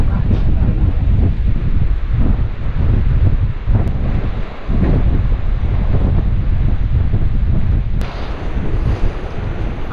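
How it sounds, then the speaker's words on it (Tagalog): Strong wind buffets the microphone in heavy, roaring gusts, loud and continuous throughout. "Ang lakas ng hangin."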